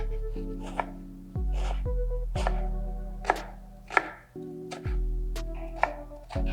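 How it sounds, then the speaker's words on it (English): A knife chops eggplant into small dice on a cutting board, a run of sharp, close knocks spaced irregularly over a low steady background hum, with no voices. "We're gonna cut the eggplant in small dices."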